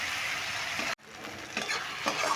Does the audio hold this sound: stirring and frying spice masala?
yes